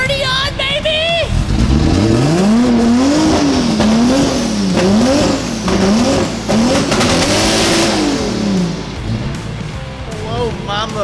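A Nissan 240SX with a 2JZ engine and new turbo revving hard, rising and falling repeatedly in loud, close surges with a whooshing high edge, excited voices shouting over it.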